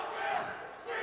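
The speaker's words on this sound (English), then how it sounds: "we had the crowd chanting for Bill Snowdy" Basketball crowd at a 1999 student TV versus faculty game chanting for a player, a sustained mass of voices filling the gym, swelling, dipping slightly in the middle, then rising again.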